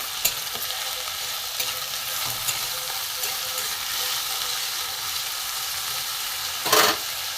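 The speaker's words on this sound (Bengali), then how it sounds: "ভালো করে ভেজে নেব" Carrot and other chopped vegetables fry in a pan with a steady, close hiss of sizzling oil, broken by occasional light stirring clicks and a brief louder scrape near the end.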